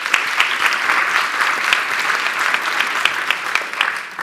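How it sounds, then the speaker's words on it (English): Audience applause at an African business forum after a speaker is introduced, a loud, sustained burst of many hands clapping with sharp individual claps standing out. "Please give her a round of applause."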